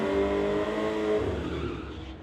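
Chevy Blazer and Camaro launching side by side at a street-legal drag race, a loud steady engine roar with tonal whine that fades as the cars pull away.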